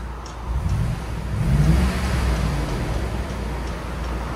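A 1980 Mercedes 450SEL with its 4.5-litre V8 on the stock exhaust gives one brief rev over a continuous low engine rumble, close by and without speech.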